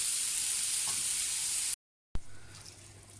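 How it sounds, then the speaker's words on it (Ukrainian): Zazharka, a sautéed vegetable dressing, sizzles in a pan with a bright steady hiss that cuts out abruptly, followed by a fainter quieter stretch. "Роблю зажарочку."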